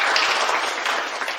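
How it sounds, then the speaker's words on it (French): A conference audience gives dense, steady applause, many hands clapping together at an even, fairly loud level throughout the short moment. "Merci pour vos applaudissements."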